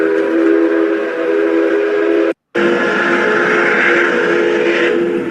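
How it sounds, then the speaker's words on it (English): A Japanese steam locomotive whistle is pitched down into a deep, sustained, loud chord. It is broken once by a short silent gap and then carries on steadily. "I like to like search up like Japanese steam locomotive whistles, and I like to low pitch them"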